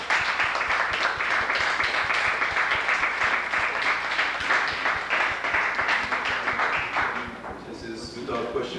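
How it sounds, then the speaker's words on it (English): Audience applause after a debate at Medgar Evers College, a dense sustained round of clapping that holds steady for several seconds before thinning out near the end. "I think they're deserving of a hearty round of applause."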